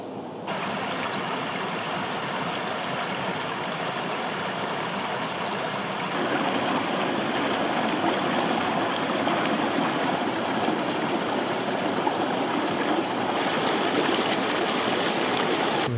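A mountain stream in the Mourne Mountains near Ben Crom flows steadily, a continuous close rush and gurgle of water that grows slightly fuller partway through, with no voices.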